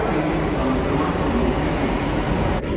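Steady, loud rumble of a Delhi metro train rolling along, continuous for the whole stretch with a slight drop near the end and faint voices mixed into the noise.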